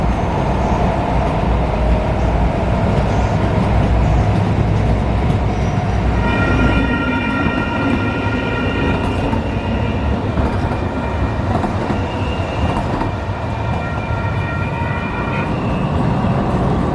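A light rail train rumbles steadily as it rolls along the rails, with a brief high electric whine rising partway through, loud and close.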